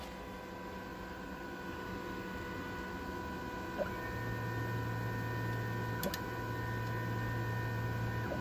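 A Sintratec 3D printer being repaired, running after start-up with a steady electrical hum and a low motor drone that begins partway through, with a couple of faint ticks and no talking.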